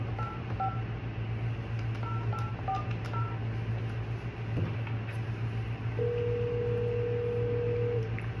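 A telephone number is dialed with short DTMF touch-tone beeps in quick clusters over a steady electrical hum, then a long single line tone sounds near the end.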